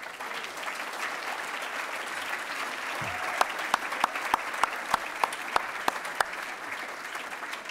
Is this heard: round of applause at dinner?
yes